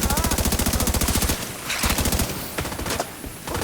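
Automatic gunfire in the shooter game The Division 2, a loud rapid burst of evenly spaced shots for over a second, then scattered single shots and impacts.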